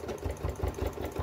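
A sewing machine runs in a short burst with a steady rapid stitching rhythm while reversing to backstitch at the corner of a zipped pouch, close and fairly loud.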